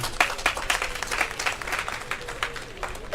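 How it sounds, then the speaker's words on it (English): Applause from a large school gathering of students and teachers at a Ugandan secondary school event, a rippling burst of many hands clapping unevenly, moderately loud with no voice over it. "you all deserve the applause of this congregation."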